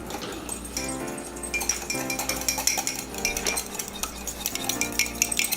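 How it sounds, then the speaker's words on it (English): A fork rapidly whisks egg and vanilla inside a mug, giving a quick, continuous clinking and scraping rhythm close to the microphone with no talking. "take a fork or a spoon and just kind of whisk it"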